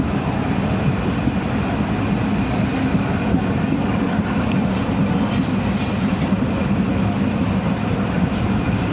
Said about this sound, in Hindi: ओकाड़ा से कुछ पहले ट्रेन रुक गई थी, अब दोबारा से चलने लगी है